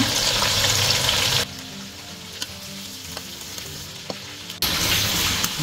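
Spices crackle and sizzle steadily in hot oil for chicken karahi, a loud continuous fry that drops quieter mid-way while being stirred, then surges back up.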